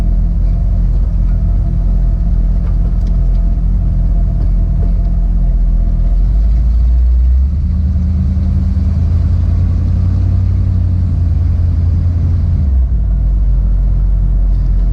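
A 1964 Cadillac DeVille custom roadster with a 500ci V8 on the move, a deep steady engine rumble rising in pitch as it accelerates midway, close and loud throughout with no talking.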